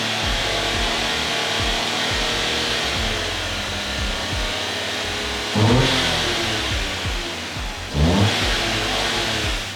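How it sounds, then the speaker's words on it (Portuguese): A car engine revs up as the accelerator is pressed during a lambda sensor check, a loud, close, steady drone with two sharp surges that rise in pitch and then ease back. "Agora eu vou acelerar o carro para ver se a resposta está sendo imediata"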